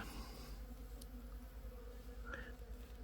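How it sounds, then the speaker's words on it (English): Many bees drone in a constant, thick buzz nearby, unbroken throughout, with a brief higher whine passing close at one point. "Bees must be getting after the dogs."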